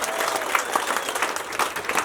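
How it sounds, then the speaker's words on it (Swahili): A congregation applauds in praise at a church service during a wedding celebration, dense rhythmic clapping from many hands, close and steady, with faint crowd voices underneath. "Pigia Bwana makofi mazuri"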